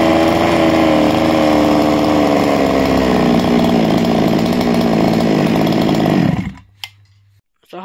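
A nitro-fuelled RC car engine screams loud and close at a steady high rev for about six seconds, its buzzing whine holding nearly constant before cutting out abruptly, leaving a brief quiet with a couple of faint clicks.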